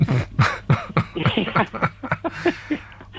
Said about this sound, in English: You want to see somebody about that cough?